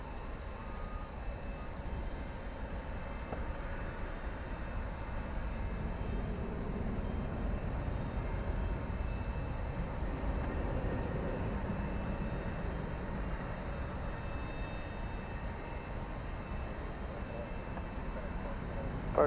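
A jet airplane at DFW Airport at night, a steady broad engine roar rumbling on throughout, moderately loud and even, with air-traffic radio talk in the background.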